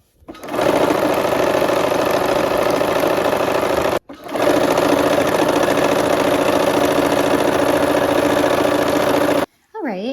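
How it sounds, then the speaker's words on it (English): A sewing machine stitches a long quarter-inch seam for a quilt strip set, running steadily and close, with a brief pause near the middle before it resumes and stops just before the end. "we're going to sew 1/4 inch, and this is just a nice long seam"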